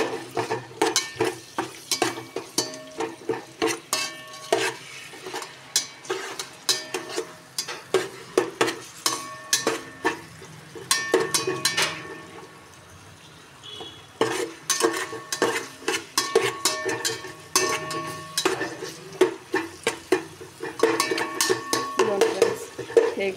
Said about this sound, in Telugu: ఇది అల్లం వెల్లుల్లి పేస్ట్ కొద్దిగా ఆగాలన్నమాట, మరీ ఎక్కువ ఫ్రై కాకుండా